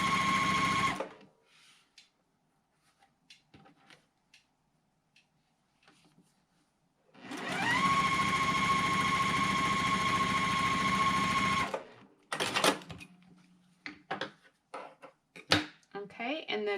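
Sewing machine stitching along a marked line on a quilt block, a sustained close mechanical hum lasting several seconds with a brief burst near the start, followed by handling clicks and light taps.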